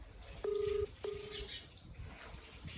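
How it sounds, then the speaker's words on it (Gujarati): A phone call goes out with two short electronic tone bursts, the first longer and louder, the second briefer, followed by quieter room noise and a few faint clicks. "રીંગ જાય."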